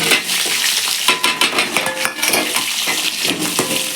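Large onions sizzle loudly in a hot pan while a utensil scrapes and clatters against the metal, stirring continuously up close.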